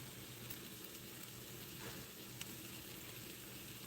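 Shrimp frying in a pan give a steady, soft sizzle and crackle that holds evenly throughout, with a few faint ticks and no talking.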